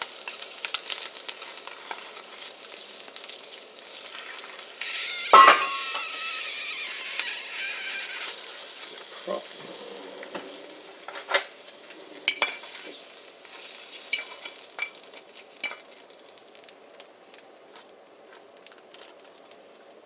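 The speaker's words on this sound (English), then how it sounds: "turn off the stove and flip the egg on" An egg fries in a pan, a faint sizzle with a spatula scrape and clunk as it is flipped, followed by light intermittent clicks and ticks.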